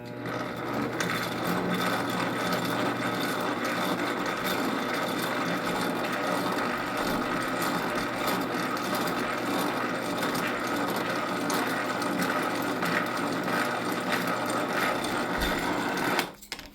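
A metal lathe turns a brass rod at low speed, giving a steady, continuous mechanical whir with faint rhythmic ticking that stays close and even throughout, then stops abruptly at the end.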